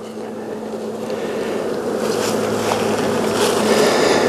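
Honey bees hum steadily around an opened hive during an inspection, a close, continuous drone that swells slightly louder as it goes, with no talking.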